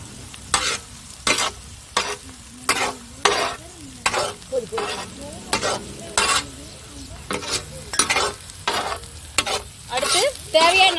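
Onions and spices stirred and frying in a pan for fish cooked in banana leaf, with steady sizzling and repeated sharp scraping strokes of a spoon against the pan, close and alone.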